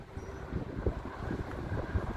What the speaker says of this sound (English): it's still a little windy a little bit over here